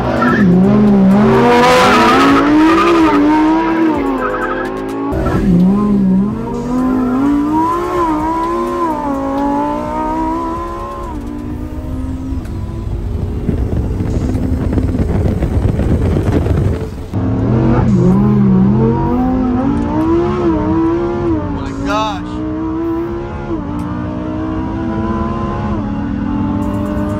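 A Lamborghini Huracan STO and a Ferrari 488 Pista race hard, their engines revving up and down through gear changes with tire squeal and skidding. A sharp burst of acceleration stands out midway, and the sound stays loud and close throughout.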